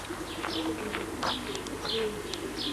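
Racing pigeons coo softly in their loft at a pigeon club, with repeated low rolling calls, faint chirps and light rustling against a quiet background.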